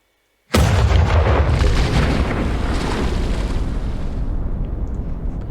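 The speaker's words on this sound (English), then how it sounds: "Then you'll see, let's fire here, that we can fire a salvo off." A naval cannon salvo fires in a Minecraft naval warfare mod: one sudden loud boom opens a long, dense, roaring rumble that holds steady and slowly fades.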